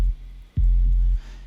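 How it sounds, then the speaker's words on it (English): 808 Knockers sub bass synth preset playing low notes, two deep booming sustained bass hits, the second longer, then cut off, heard alone and loud. "sub 2 is a preset that I use called 808 Knockers. On its own, it sounds like this."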